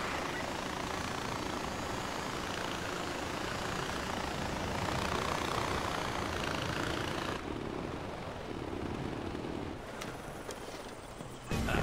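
A steady, loud mechanical drone of a helicopter's rotor and engine in Far Cry 4, continuous throughout, shifting slightly in tone near the end.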